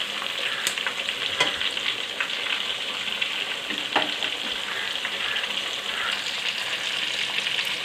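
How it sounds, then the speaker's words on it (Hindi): Chicken fries in a pan over high heat with a steady, bright sizzle, broken by a few sharp pops and clicks as pieces are stirred, heard close and alone. "देखिए व्यूअर्स, हमारा चिकन अच्छे से फ्राई हो गया है"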